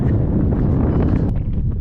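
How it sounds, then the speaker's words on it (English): Steady, loud wind buffeting the microphone on the Arizona Trail, a continuous low roar with gusty rumble and no voices. "It's windy up here."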